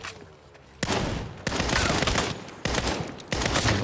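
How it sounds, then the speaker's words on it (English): Heavy gunfire during a shootout in the Saints Row reboot, with loud overlapping volleys of shots in several dense bursts separated by brief lulls, close and sustained. "sie endet am Ende trotzdem in einer massiven Schießerei"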